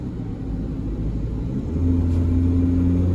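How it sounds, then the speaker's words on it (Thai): An MG Extender pickup with a stage 2 remap accelerates, its engine a steady low rumble that rises and firms into a louder, smoother drone partway through, heard from inside the cab. "นี่ผมเหยียบปุ๊บ มันพุ่งไปเลยนะครับ"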